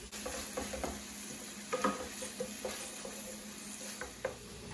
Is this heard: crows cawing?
no